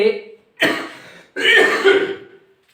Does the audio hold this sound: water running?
no